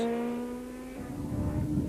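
A rally car races at high speed on a gravel mountain stage, its engine screaming near the rev limiter in a steady high whine before rough, gritty road noise takes over, close and loud.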